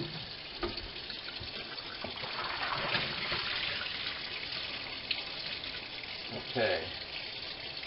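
Chlorinated municipal tap water runs steadily as something is rinsed in a sink while making sweet apple wine, a continuous gushing wash with a brief splashy surge near the end, under a short spoken word.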